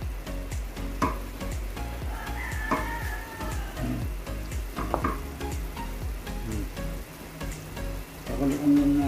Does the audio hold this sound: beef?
yes